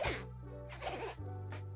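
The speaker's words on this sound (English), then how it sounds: "it's a nice zipper. You can even hear it." Zipper on a BlackWeb headphone case being pulled, three bright rasping zips, two longer and a short final one, close up over a steady low hum.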